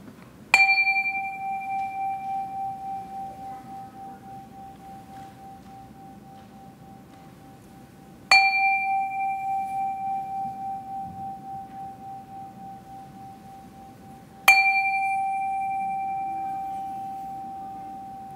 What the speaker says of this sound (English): let's settle our minds and calm our hearts with the ringing of our chime.